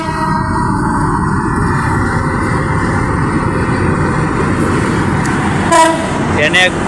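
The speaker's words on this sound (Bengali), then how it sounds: "একটা ট্রেন আসতেছে" Steady roaring rumble of a train rushing past nearby on a bridge at Ghorashal, Narsingdi, continuous and loud, with a brief higher whine near the end.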